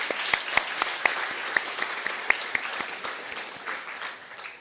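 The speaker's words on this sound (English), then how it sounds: "I think we can take that applause also for being for Pete Haskell and Ed Turpin" Audience at a Scottish Wildlife Trust members' day clapping, a modest room of distinct individual claps that gradually thin out and fade over a few seconds, no voices.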